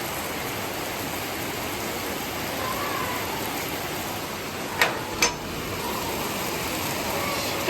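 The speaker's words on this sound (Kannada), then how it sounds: "ಎಷ್ಟು ಜೋರು ಮಳೆ ಬರ್ತಾ ಇತ್ತು, ಸೌಂಡೇ ಹೇಗೆ ಕೇಳಿಸ್ತಾ ಇತ್ತು." Heavy evening rain pours down in a village, a broad, even roar that stays loud and constant, broken only by two brief sharp knocks near the middle.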